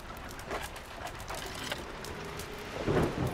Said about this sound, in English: I wonder if we can work in the storm?